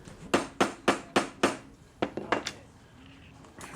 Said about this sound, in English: I can just attach this with a little pot rivet.